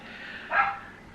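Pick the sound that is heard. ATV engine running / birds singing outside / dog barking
dog barking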